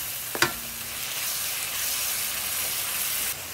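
Shrimp paste (bagoong alamang) sautéing in a pan with tomato, onion and garlic, a steady close sizzle after a brief clatter of utensils at the start, with no talk.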